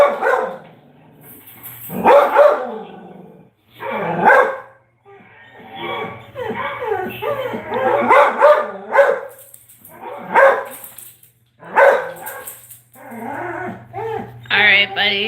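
A dog barks repeatedly in sharp, loud bursts mixed with growls and whimpers, with short pauses between volleys, all close by in a home.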